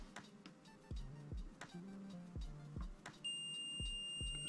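A multimeter on continuity mode is tested across a Game Boy Color fuse and gives a steady high electronic beep that starts late and holds to the end, over light clicks and taps from the probes.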